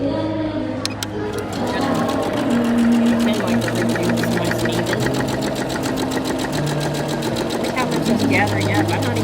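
A sewing machine stitches gathering rows at long stitch length, humming loud and continuous with a fast rhythmic needle tick running right through, close up and unbroken from start to finish.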